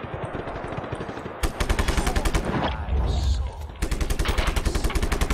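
Rapid automatic gunfire in the video game Just Cause 3, loud close bursts of machine-gun fire with a brief pause mid-way before the shooting resumes.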